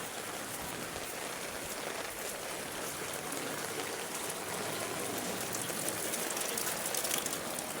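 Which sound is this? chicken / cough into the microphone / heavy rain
heavy rain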